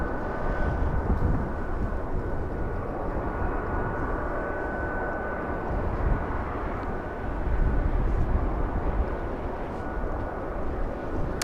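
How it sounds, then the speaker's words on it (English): Boeing 757 jet engines spool up at LAX, a steady broad roar with a faint high whine that swells slightly toward the end, continuous and fairly close, with no voices. "757 powering up."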